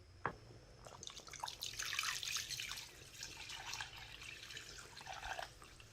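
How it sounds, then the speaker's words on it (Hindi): Water is poured into a cooking pot of beef trotters set to simmer overnight over coals, a soft splashing, trickling stream rising and falling at close range with no voices. "तो पानी डाल देंगे, क्योंकि सारी रात पकना है"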